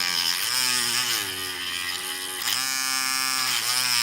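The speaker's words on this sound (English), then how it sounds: "that Dremel bit is fucking rolling" A Dremel rotary tool bit spins at high speed with a steady, loud, buzzing whine that dips in pitch briefly before climbing back, close to the listener and with no voices.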